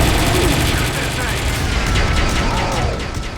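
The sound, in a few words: minigun firing in the video game Metal Gear Solid V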